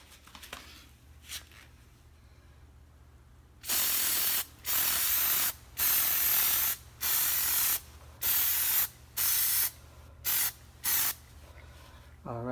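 Plasti Dip aerosol sprayed onto a Corvette front grill, loud hissing bursts repeated about eight times in steady pulses after a quiet start, each lasting roughly half a second to a second.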